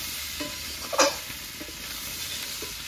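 Potatoes and taro frying in a pan with salt and turmeric, stirred, giving a low steady sizzle with one brief louder scrape of the spoon near the middle, no voices.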